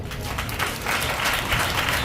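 A church congregation clapping together during a Bible study sermon, a dense, steady wash of hand claps filling the room and swelling slightly louder in the second half, with no clear voice over it.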